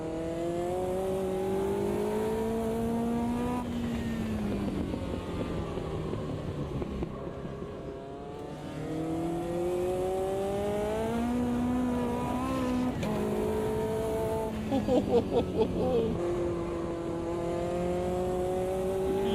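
Caterham race car engine in the Automobilista 2 sim, revving loudly and continuously through repeated upshifts and downshifts, with rising and falling pitch sweeps over about twenty seconds and no talk.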